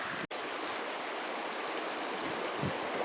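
Steady broadband rush of creek water flowing nearby where a GEOSLUICE gold sluice is being tested, continuous and even with no voices over it.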